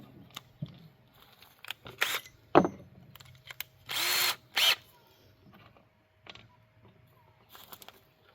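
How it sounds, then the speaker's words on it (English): Cordless power drill driving screws to mount a light on a homemade egg incubator, several short whirring bursts separated by quiet pauses and handling clicks, close and moderately loud. "Hopefully my drill will fit in there."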